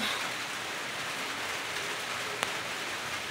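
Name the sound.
rain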